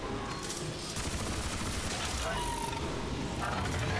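Rapid weapon fire in Crysis 3 Remastered video game sounds as a dense, loud, continuous burst of shots lasting throughout, blended with game effects and a voice talking over it.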